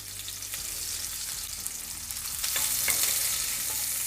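Sliced onions fry in hot oil in a pan with a continuous close sizzle that grows a little louder toward the end, with faint stirring scrapes and no speech.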